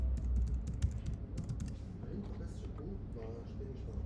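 Quick bursts of computer keyboard typing entering a password, close and crisp clicks clustered in the first seconds, with a person talking quietly underneath.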